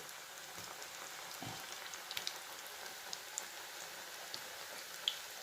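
Onion pakoda batter dropped into hot oil, frying with a soft, steady crackle and light popping pips, fairly faint and close, with no talking.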